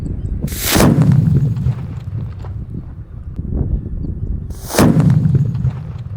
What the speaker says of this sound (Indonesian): Menyalakan banyak sekali mercon yang ukurannya jumbo-jumbo, yang terbaru.